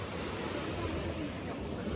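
Rushing water on a rainy hillside path near a village runs as a broad continuous roar mixed with wind buffeting the microphone, steady and close for a brief moment.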